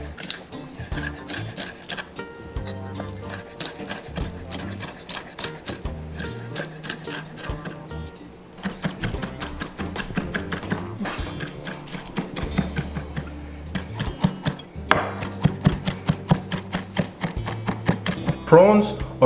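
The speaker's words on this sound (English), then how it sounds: "Since I decided to chop the prawns first" Raw prawns being chopped and minced with a knife on a cutting board in a home kitchen, a rapid run of sharp rhythmic thuds and taps that speeds up and slows down, close and fairly loud.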